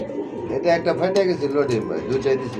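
Pigeons coo repeatedly at close range at a pigeon market, soft rolling calls mixed with someone talking over them.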